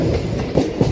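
An MMTS local train hauled by a WAG-9 locomotive rumbles steadily, with wheels clicking over rail joints in a short, loud burst of continuous track noise.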